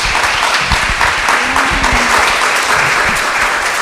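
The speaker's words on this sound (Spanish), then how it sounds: "les pido por favor un aplauso" Audience applause at the launch ceremony of the Núcleo Milenio Data Justa, a loud, dense and sustained clapping from a full room that holds steady throughout.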